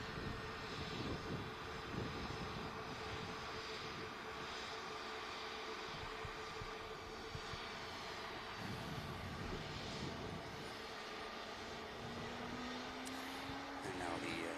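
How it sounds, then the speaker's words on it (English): An EasyJet airliner touches down on runway 23 right at Manchester Airport, a steady, loud broadband engine roar holding throughout, with a rising whine emerging near the end. "EasyJet touching down, 2-3 right."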